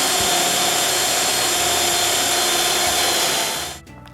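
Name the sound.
drilling holes in plexiglass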